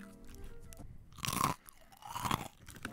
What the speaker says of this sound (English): How crunchy this is.